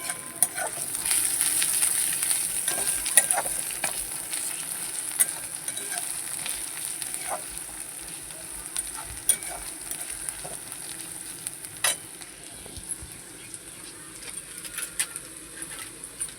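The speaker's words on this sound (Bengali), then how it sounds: "এবারে হচ্ছে মশলাটাকে ভালো করে কষার করা" Spice masala with salt is stir-fried for a Bengali chicken curry with potatoes, a soft continuous sizzle broken by scattered scraping stir strokes and light clicks, fairly quiet with no talking.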